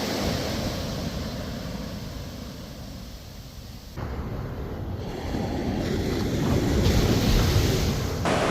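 Surf washes onto a huge, empty Malibu beach, a broad steady roar that swells slightly toward the end, with wind buffeting the microphone throughout.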